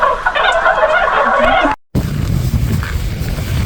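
Loud turkey-like gobbling calls from birds ring out close by, broken by a brief gap before a rumbling burst of noise.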